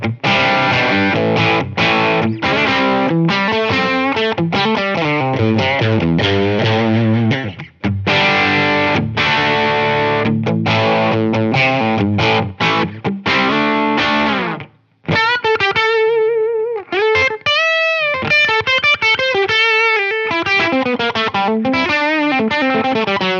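Distorted electric guitar through a Line 6 Helix Placater dirty tone on the bridge pickup, loud chugging chords and riffs, then sustained wavering notes and bends near the end, played alone.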